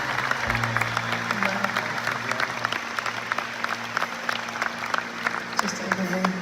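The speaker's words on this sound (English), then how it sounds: "please can we give a round of applause for the ground staff" A concert crowd applauds the ground staff, a broad, steady wash of clapping from a large audience with scattered sharper claps and a low hum underneath.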